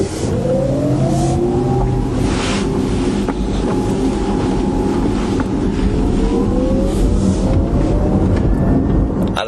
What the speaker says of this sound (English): There's a little bit of a whine from an electric motor.